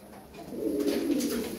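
A single low, soft tumbler pigeon coo swells briefly up close against a quiet background.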